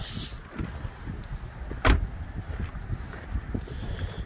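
A 2007 Ford Focus 1.8 Zetec three-door hatchback is switched off as the driver gets out, with one sharp door thud near the middle over a low, rumbling background.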